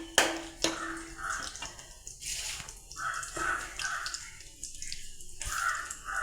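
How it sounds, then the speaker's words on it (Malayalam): Water splashes into a pan of okra curry with fish head on the stove, in several uneven pours and drips with a few sharp clinks between them. "നമ്മൾ ലേശം വെള്ളം ഒഴിച്ച് കൊടുക്കാം."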